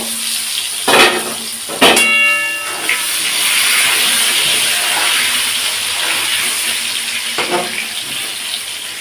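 Potatoes for a meat curry frying in a pan, a steady hiss and sizzle running throughout with a few sharp clatters early on.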